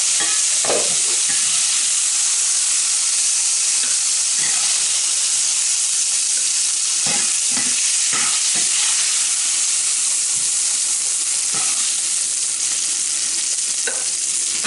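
Fried venison stew meat goes into a crock pot beside a hot pan, with constant loud sizzling hiss throughout and scattered scraping, clinking utensil knocks as pieces are moved, close up and without talk.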